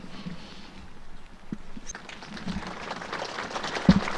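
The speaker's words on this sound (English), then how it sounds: "A respectful minute silence followed by a round of applause" A crowd's scattered clapping at a hurling final swells gradually from faint to fuller applause, sounding a little distant in a large space.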